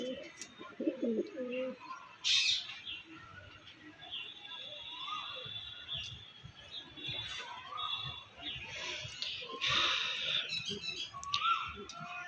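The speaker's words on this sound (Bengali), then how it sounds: "পায়রাগুলো খুবই সুন্দর একটা জোড়া আছে" A pair of Andhra pigeons kept for sale coo softly and faintly, with a few low rolling calls and scattered chirps against a quiet background.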